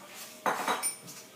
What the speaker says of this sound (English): Stir, stir, stir, stir.